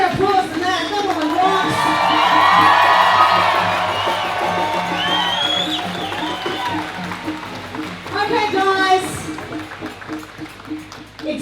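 A large outdoor protest crowd at a Sydney march cheers, whoops and applauds loudly and continuously, swelling early on then holding steady, with shouts and voices mixed through the roar.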